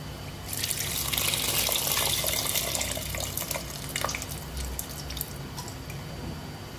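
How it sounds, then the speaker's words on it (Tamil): Tamarind water poured into a pan of vada curry, a steady splashing trickle that rises quickly, holds for a few seconds and then thins to softer dribbling, heard close up with no talk. "புளியும் இதுலயே அப்படியே ஊற்றிக்கலாம்"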